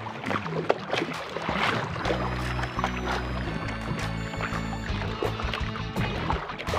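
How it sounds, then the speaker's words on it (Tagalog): Small fishing boat out at sea in big waves, water sloshing and churning steadily against the hull alongside a low droning motor hum, close and continuous without speech. "Malaki ang alon."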